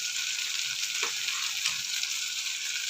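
Vegetables sautéing in a hot pan give a steady, close sizzle with occasional stirring scrapes, continuous and fairly loud, with no talking.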